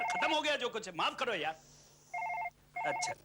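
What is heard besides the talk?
telephone ringing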